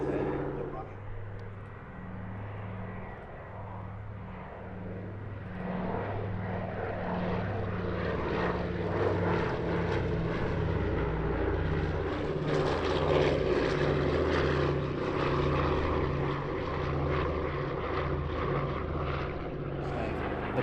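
A propeller aircraft, a former Royal Canadian Air Force anti-submarine plane converted to a firebomber, flies at the Midlands Air Festival airshow, its engines a steady pulsing drone that swells louder while a commentator talks over it.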